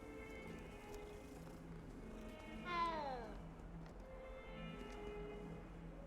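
Cats meow in a castle-set video game, one clear rising-and-falling meow near the middle over a soft background hum, fairly faint and close.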